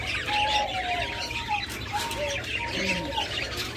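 Several pet cockatiels of fancy mutation colours chirp and squawk in a steady stream of short whistled calls, close by over a constant background of bird chatter.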